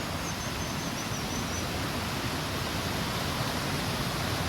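Heavy water pours down the Majach waterfall near Manali in a dense, constant roar that is close and loud, with no breaks and no talking.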